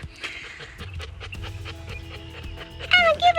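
A large, heavy-breathing dog of giant lap-dog size pants rhythmically and close, quick breaths repeating steadily, with a brief voice and some higher sounds near the end.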